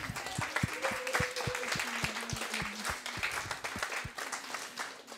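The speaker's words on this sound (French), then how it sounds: "Est-ce qu'on peut encore applaudir le Seigneur pour ce qu'il fait?" A church congregation claps in a fairly rhythmic, sustained round of applause, the claps sharp and evenly spaced at moderate distance, with a held tone beneath.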